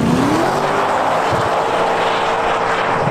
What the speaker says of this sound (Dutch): heeft zoveel power dat er dan één wiel echt wel behoorlijk aan het spinnen is